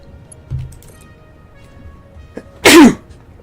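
A single sharp sneeze bursts out near the end, loud and close, after a stretch of quiet room tone with a faint thump earlier.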